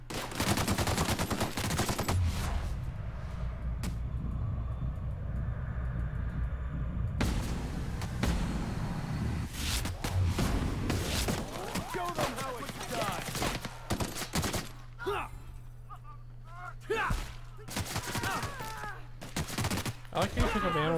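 Gunfire in The Outer Worlds: rapid bursts of shots and scattered single reports crackle at close range, with stretches of sustained firing and quieter gaps between volleys.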